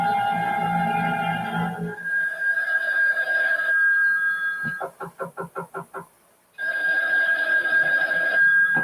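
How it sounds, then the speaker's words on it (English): A telephone rings in a series of rapid, evenly spaced electronic bursts that stop abruptly, set between stretches of loud steady tonal music, with no talk over it. "Isn't that your phone I hear ringing?"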